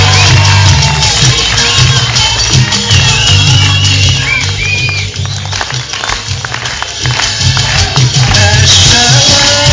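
An audience at an outdoor high school play cheers loudly, shouting and whooping in a dense, continuous roar from a large crowd of students that swells and dips but never drops out.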